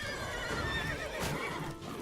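A horse named Roach whinnies in The Witcher 3, a loud, wavering neigh over steady clip-clopping hooves and a busy game mix, with a sharp burst near the middle.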